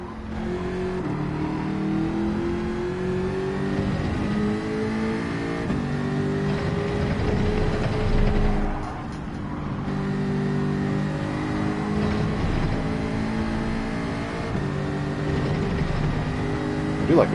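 A race car engine in Gran Turismo 7 revs steadily and loudly, its pitch rising and falling through gear changes, with a brief dip midway.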